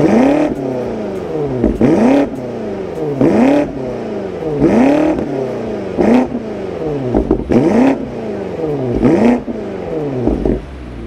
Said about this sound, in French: on a aussi un système d'échappement M Performance à quadruple sortie, pour entendre le beau son du V8 biturbo